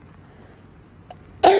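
A sick child with a bad cold coughs once, a loud close burst that breaks a near-silent room at the very end.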